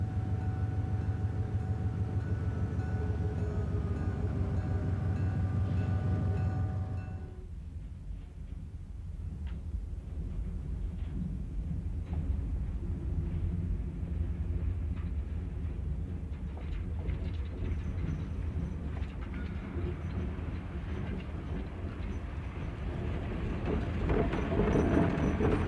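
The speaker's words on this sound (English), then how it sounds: "Two GE U-25B diesels lead a westbound train into Avery Yards." Two GE U-25B diesel locomotives lead a westbound train into Avery Yards, a loud low engine rumble that drops sharply after several seconds to a quieter rolling rattle of wagons, then builds again.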